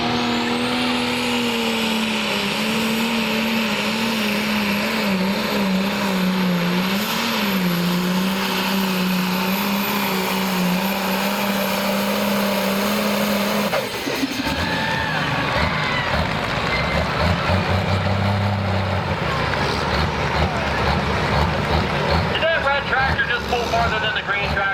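Case IH tractor engine roaring in a tractor pull, a loud sustained drone that shifts abruptly mid-way into a rougher, pulsing roar, with speech over it.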